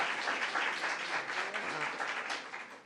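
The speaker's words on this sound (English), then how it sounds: "Let's give her another round of applause" Applause for a senator at a New York bill signing on human trafficking, a moderate crowd clapping steadily at some distance and fading slightly toward the end.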